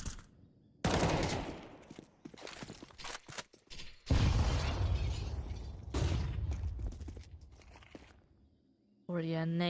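AK and Tec-9 fire in Counter-Strike during a Hellcup 9 esports match, bursts of rapid gunshots with loud and quieter spells and footsteps between, mixed with a commentator's voice throughout.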